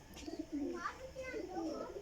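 A Rampuri pigeon pair cooing softly in short throaty calls, faint and nearby, with voices audible in the background.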